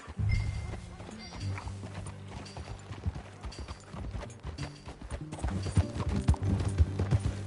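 Horse hooves clip-clop in a steady rhythmic gait in Red Dead Redemption 2, close and clear, with game sounds and voices talking over the riding.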